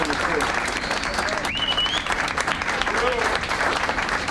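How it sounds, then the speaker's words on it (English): A film cast, gathered for the making of a film idol, applauds themselves, a steady, dense round of clapping filling the room at even loudness, with bits of voices and whoops mixed in. "So please give yourself a round of applause."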